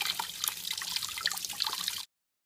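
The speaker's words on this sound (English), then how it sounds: "squeeze it and the juice comes out" Apple juice trickles in a thin, faint, steady stream from a hand-squeezed cider press for about two seconds, then cuts off abruptly.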